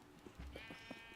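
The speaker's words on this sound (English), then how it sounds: "Baby sheep." Sheep bleating in a video game, a faint, brief cry lasting about a second over a low, steady background.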